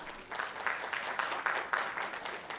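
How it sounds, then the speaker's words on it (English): Applause from a conference audience welcoming a customer experience executive on stage, steady dense clapping of moderate loudness throughout with no talk over it. "Can we have a big round of applause for Mr. Gupta?"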